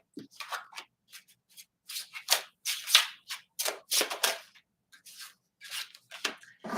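Noisy tarot cards shuffled and riffled by hand, a rapid run of crisp papery flutters and snaps in uneven bursts, close and fairly loud, with no voices.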